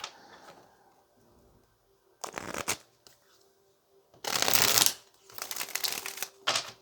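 Tarot cards are shuffled in several quick riffling bursts, crisp and close, separated by quieter pauses with faint handling noise.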